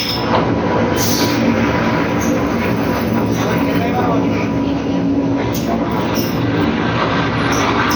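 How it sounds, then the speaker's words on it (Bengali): A Haridwar to New Delhi Shatabdi train rumbles steadily into a station with rolling wheel noise and faint metallic squeals, heard from on board or close by with voices underneath. "ট্রেন ঢুকে গেছে"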